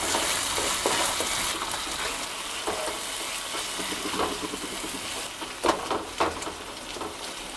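A tomato and spice paste for a catla fish curry is stirred and sautéed in a pan. A steady sizzle runs throughout, broken by a few sharper scrapes and clatters of the spoon, with no talking.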